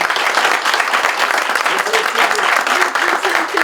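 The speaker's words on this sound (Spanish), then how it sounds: "Un aplauso." Sustained, dense applause from an audience at an academic medal ceremony honoring teachers for years of service, loud and steady throughout with a few faint tonal voices mixed underneath.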